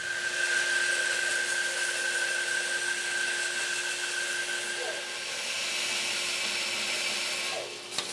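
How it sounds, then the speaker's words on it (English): A bandsaw cuts through a wooden table leg blank taped to a cutoff, making a steady, close whine with a constant tonal hum that eases briefly midway and stops near the end. "I do need to send this through my bandsaw again"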